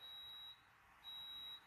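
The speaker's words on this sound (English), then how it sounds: "that's my coffee beeping." A coffee maker beeps faintly in a quiet room, two long electronic tones separated by a short pause.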